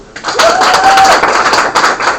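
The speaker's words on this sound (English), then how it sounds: "Let's do a round of applause for the ringleader." Classroom audience applauding a student crowned ringleader in a physics honors game, dense clapping and crowd noise sustained throughout, with a brief tonal whistle-like sound early on and voices mixed in.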